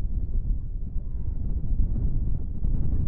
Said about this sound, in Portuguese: E o vento é forte.